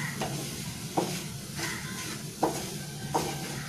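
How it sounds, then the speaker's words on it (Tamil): Vegetables and egg for egg fried rice being stirred in a hot pan: a continuous close sizzle, broken by four or five distinct scrapes of a spoon across the pan, with no voices. "இதை நல்லா mix பண்ணி விட்டுருங்க."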